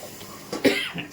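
A single short, close cough, fairly loud, over a faint background hum.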